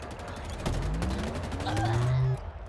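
Enemy gunfire in the Halo Infinite campaign, a steady stream of rapid shots with rising tonal whines, continuous and fairly close, with a voice speaking over it.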